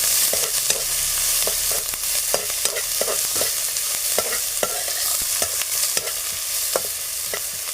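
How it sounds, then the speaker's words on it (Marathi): Onion sautés in hot oil for a banana flower vegetable dish, with a constant sizzle broken by sharp, repeated scrapes and taps of a spoon stirring the pan. "कांदा परतून घेऊया जरा"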